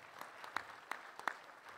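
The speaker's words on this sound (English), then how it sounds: "So let's give Paige another big round of applause for this lovely donation." Scattered applause from the audience at a charity gala auction, a few distinct claps standing out over a thin patter of others, fairly faint and brief with no talk.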